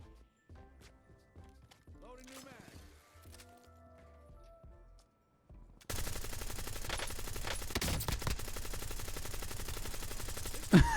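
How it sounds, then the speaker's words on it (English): Gunfire exchange in the Warzone video game, starting with sparse scattered shots and faint sounds, then turning into a loud, sustained stretch of rapid automatic fire that continues to the end, with voices talking underneath. "Halfway through, we just started shooting at each other."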